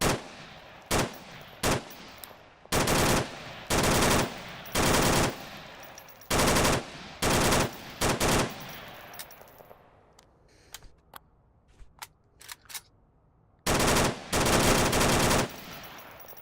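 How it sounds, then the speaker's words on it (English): Loud full-auto bursts from an unsuppressed AK-12 rifle in the VR shooter Onward, several long sustained bursts and short pairs of shots separated by quiet gaps, close and alone with no talk. "this is the AK-12 without the silencer and then foregrip instead"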